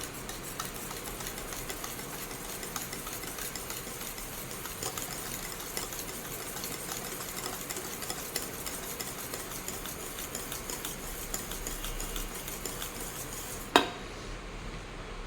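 A hand beater steadily stirring a thick semolina batter for ripe-banana malpua, a continuous close clattery whir against the bowl, ending with a sharp knock.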